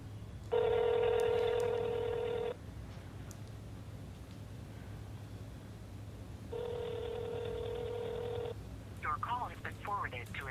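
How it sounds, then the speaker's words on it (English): Two bursts of touch-tone telephone dialing, each a steady run of keypad beeps lasting about two seconds, ring out clearly over a low mains-like hum, with a brief voice at the very end. "I hate picking up the phone and calling someone"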